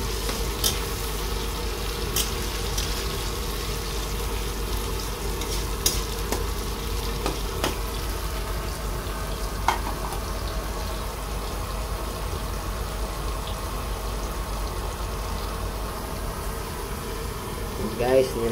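Chicken gizzards (balon-balon) fry in a pan with a faint, steady sizzle that runs throughout, broken by occasional utensil clicks and scrapes.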